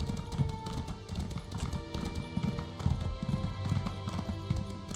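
A horse runs along a road in the video game Elder Scrolls Online, its hooves clip-clopping in a fast, steady rhythm. Faint background game music sits underneath, and no one speaks.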